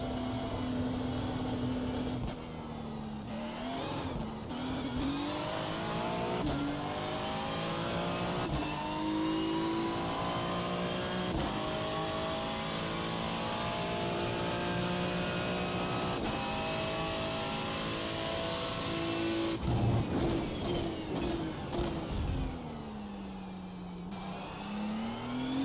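Porsche race cars in a DTM racing video game, engines revving and accelerating continuously with rising and falling pitch sweeps through gear changes, loud and sustained with no talk.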